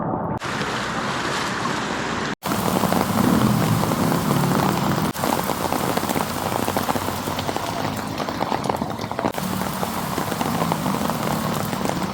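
Heavy rain pours on a flooded street in Metro Manila, Philippines, with water surging through like waves: a loud, steady broadband wash that runs almost unbroken for the whole stretch, dropping out for an instant once, with no talking.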